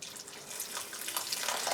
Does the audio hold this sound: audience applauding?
no